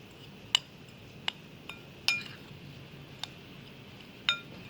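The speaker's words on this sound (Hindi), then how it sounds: "इसके बाद हम ड्राई चीज़ों को अच्छी तरह मिक्स करेंगे।" A spoon clinks against a bowl while dry ingredients with milk powder are stirred together for gulab jamun: about six sharp, bright taps at uneven intervals, close and clear over a quiet room, with no talking.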